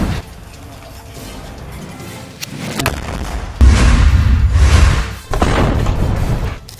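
A rocket is fired at soldiers positioned inside a building during combat fighting, heard as loud booming blasts and thuds with rumbling aftermath, a second heavy impact following the first a few seconds later.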